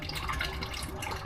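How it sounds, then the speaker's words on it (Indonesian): Crude oil flows through a small pipe into a distillation furnace with a soft, continuous trickling and bubbling, faint and close, with small dripping splashes throughout. "Depan saya itu pipa kecil itu adalah minyak yang dialirkan ke dalam tungku"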